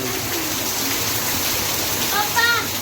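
Heavy rain pours down steadily on Janmashtami, a dense, continuous hiss and wash of water close around, with voices faintly mixed in near the end.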